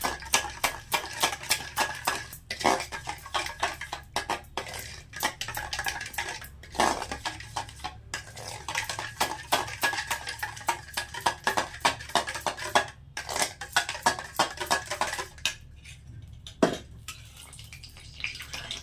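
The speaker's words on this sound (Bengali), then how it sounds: "দিয়ে দইটাকে ভালো করে ফেটে নেব এরকম করে।" Yogurt (dahi) with a pinch of black pepper powder is whisked in a bowl for Hyderabad street-style dahi bade, with a steady run of close, rapid clinks and scrapes of utensil against the bowl and no talking.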